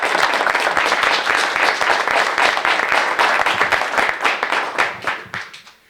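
A seated audience at a university installation ceremony for an endowed chair breaks into loud, sustained applause to welcome the honoree to the podium. The dense clapping holds steady, then thins and fades toward the end.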